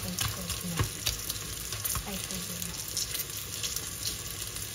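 Pork belly frying in a pan, a low, steady sizzle with faint crackles and a few soft knocks throughout, at moderate distance and without speech.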